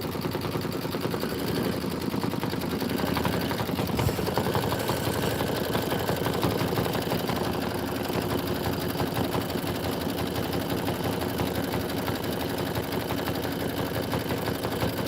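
An embroidery machine stitches out a 17,000-stitch design with a fast, steady, loud mechanical rattle that runs without a break throughout.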